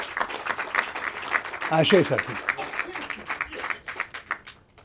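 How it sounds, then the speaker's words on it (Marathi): An audience at a Marathi cinema event applauds with steady, dense clapping that swells and then thins into scattered claps, while a voice speaks briefly over it. "तुम्हाला दोघांना यांच्यात तरी भरपूर टाळ्या व्हायला पाहिजे"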